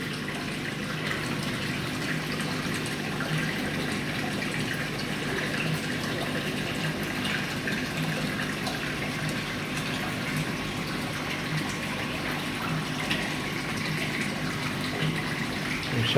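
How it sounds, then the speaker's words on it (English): A strong water shower sprays steadily into a koi fry pond, producing a dense, even hiss and splash that stays constant and fairly loud throughout, with no voices. "And a nice fat shower down there."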